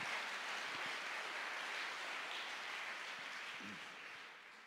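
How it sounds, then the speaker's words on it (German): A congregation applauding during a church service, a faint, even wash of many hands clapping across the room that tapers off slightly toward the end. "Lass uns mal dem Herrn einen Applaus dafür geben."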